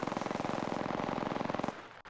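Rapid automatic gunfire rattles in a tight, fast burst for nearly two seconds during an Apex Legends firefight, loud and close, then cuts off abruptly.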